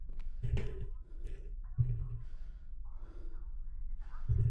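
Someone breathes heavily right into a microphone during a Fear Therapy game stream, giving a close, loud run of gasps, sighs and snorts with short pauses between them.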